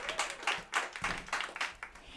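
Soft, sparse clapping for a young performer at a CD release concert comes as a rhythmic run of light claps that stays quiet and somewhat distant throughout.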